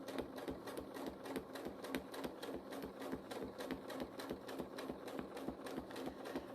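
A sewing machine runs fast and steady in free-motion stitching over couched wool on a quilt, a rapid even needle rhythm heard close but fairly soft, with no talk.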